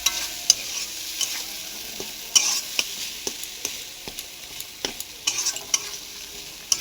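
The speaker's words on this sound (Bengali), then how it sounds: "মশলাটা ভালো করে কষে নেব।" Spice masala stir-fried in a pan, a steady close sizzle broken by repeated sharp scraping clicks of a spoon against the metal, about a dozen strokes at an irregular pace, no voices.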